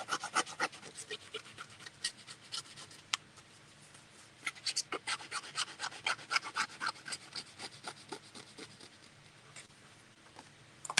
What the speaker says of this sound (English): I'm distressing the edges